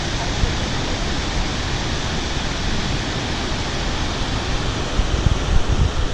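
Ganalu Falls, a waterfall near Bangalore in full flow, roars as a steady, loud broadband wash of falling water that holds unbroken throughout, with no clear voices on top.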